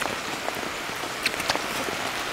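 Rain falls steadily during an outdoor countryside meal of samgyeopsal cooked on a cast-iron lid, a soft hiss of patter with a few sharper drips landing close by.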